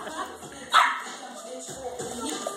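Pug and beagle puppies bark and yip in short bursts while playing, one sharp bark standing out, with whimpers and a person talking in the background.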